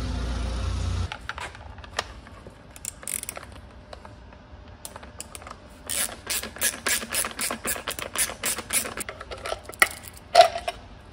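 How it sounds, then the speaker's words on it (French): Two screws are backed out of the switch box on a VPS 2241 VR E panel saw, a series of dry ratcheting clicks and small creaks coming in short close bursts, with no talking. "Donc là on va venir dévisser les deux vis ici."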